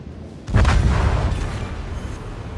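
A loud, deep explosion booms as torpedoes strike a battleship in a naval combat game, opening with a heavy blast and rolling into a long rumbling decay.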